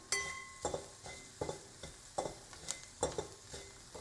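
Spices for paneer bhurji sauté in a pan, with a soft sizzle under a regular rhythm of about eight scraping stirs, faint and close, with no talking.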